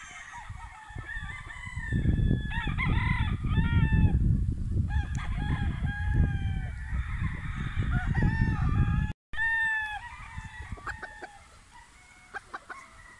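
Rooster crowing repeatedly at a gamefowl farm in Bohol, several loud, close crows with clucks and other fowl in between; someone talks over much of it.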